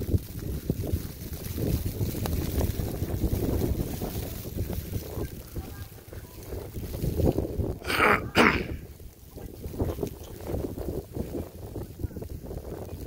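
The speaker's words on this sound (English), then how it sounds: "Strong wind gusts." Strong wind gusts roar during a heavy snowstorm, surging and fading in rough buffeting waves against the microphone, with a sharp louder burst partway through.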